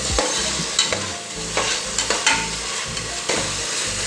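Tomatoes and vegetables sautéing in a pan for chicken biryani, a continuous near sizzle broken by regular stirring scrapes and soft knocks of the spoon.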